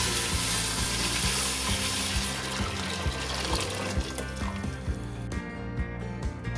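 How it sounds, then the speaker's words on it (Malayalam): A pot of water boils for penne pasta, giving a steady broadband hiss and bubbling that runs the whole time over a rhythmic low beat. "വെള്ളം ബോയിൽ ചെയ്ത് വെച്ചിരിക്കുന്നതാണ്"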